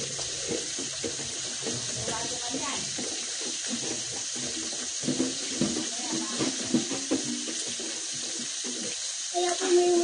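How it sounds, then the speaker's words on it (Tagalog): Running water from a sink tap pours steadily while a large dish is washed beneath it, with faint clinks and splashes throughout and a voice speaking over it. "Kaya ako na lang mag-ugas sa malaking ito."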